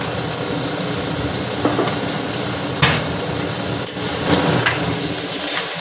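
Onions with salt sizzle steadily in a pan for prawn biryani, a constant close frying hiss with a few sharp clinks of a spatula against the pan, no talking.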